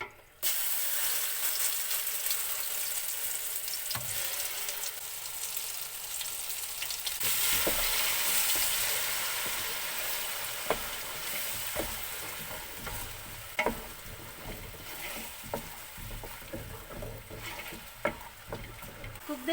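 A paste of onion, ginger, garlic and green chili fries in oil for a chicken biryani masala, giving a continuous hissing sizzle with scattered clicks of a stirring utensil that grow more frequent later.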